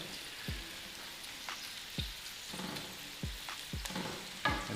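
Onion sizzles in a hot pan with a steady crackle, broken by several sharp knocks and scrapes of a utensil stirring at irregular intervals, close and fairly quiet.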